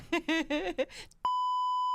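A brief burst of speech gives way to a loud, sustained electronic buzzer tone that holds steadily until the end.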